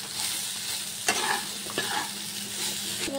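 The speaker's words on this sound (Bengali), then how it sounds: "টমেটোগুলো দিয়ে একটু ভালো করে ভেজে নিই।" Tomatoes and potatoes fry in a pan with a steady, close sizzle, broken by a few sharp clacks of a spoon stirring.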